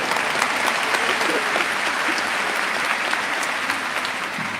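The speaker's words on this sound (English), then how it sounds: "let's give that a round of applause" Loud crowd applause at a medical school commencement ceremony, a sustained, dense roar of many hands clapping with scattered whoops, holding steady throughout.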